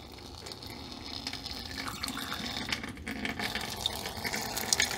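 Coolant draining from the radiator tap of a Kubota B7001 compact tractor, a steady close trickling and splashing of liquid that continues throughout, heard alone.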